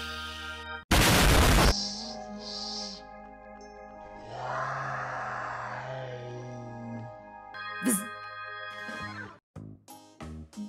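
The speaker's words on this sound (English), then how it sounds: "Why is Roispadoys' dad lighting the firework from so far away" A small backyard firework goes off at a Fourth of July celebration with a sharp bang and crackle early on, then fizzing and a few smaller pops follow, while quiet background sounds continue between bursts.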